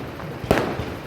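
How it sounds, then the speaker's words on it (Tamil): A single sharp firecracker bang pops out of background noise at a temple chariot festival in Chennimalai, followed by a fainter crackle. "பட்டாசு சத்தத்துடன்"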